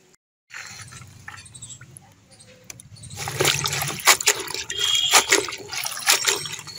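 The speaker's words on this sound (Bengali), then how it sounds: "ভালো করে কিন্তু শাকটা ধুয়ে নেবেন। দেখুন আমি দুবার তিনবার ধরে ভালো করে ধুয়ে নিয়েছি।" Water splashing and trickling as fresh leafy greens are rinsed by hand, starting softly and growing into louder, busier sloshing with sharp splashes toward the end, close and alone.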